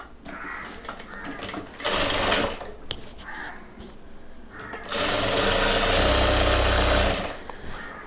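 A sewing machine runs in two loud, steady bursts stitching the waistband casing of a chudidhar pant, with quieter handling and light machine noise between the runs, close to the listener.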